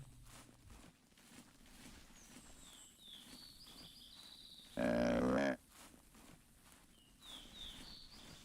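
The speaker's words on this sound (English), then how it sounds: "That was a goat sound." In a video game, a goat near a lake gives one short, loud bleat that stands out above faint ambient game sounds and occasional bird-like chirps.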